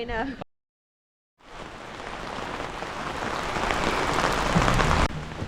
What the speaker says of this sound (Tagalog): Nung gabi, bumuhos na naman ng ulan.